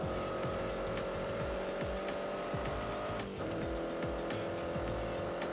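A car engine in The Grand Tour racing video game growls continuously up close, rising and falling through gear changes, with brief tire squeal and rapid ticking rhythm underneath.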